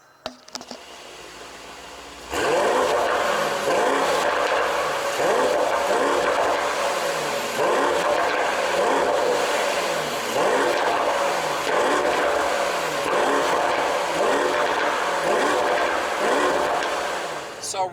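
A Mercedes-AMG GT63S 4-Door Coupé engine surges to a loud, steady roar after a quieter idle-like start, with repeated rising revs through gear changes, heard from inside the car.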